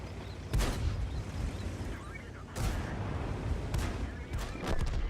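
Heavy shell impacts from World of Tanks land in quick succession: a loud, deep blast near the start, another midway, and a few sharper hits toward the end, all over a steady rumbling battle background.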